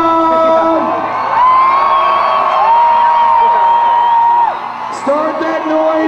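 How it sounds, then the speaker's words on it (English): A loud crowd at a freestyle motocross show cheers, whoops and yells continuously, with sustained shouting voices rising and falling close by. "We needed more noise from the crowd."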